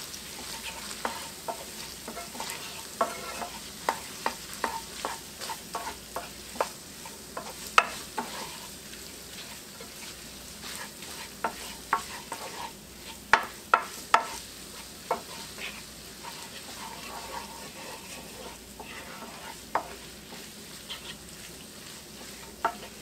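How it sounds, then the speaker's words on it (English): Spoon stirring Italian cheese tortellini soup ingredients in a pot, a faint sizzle under soft scraping and irregular light clinks against the pot, continuing steadily without talk. "Let me stir this around."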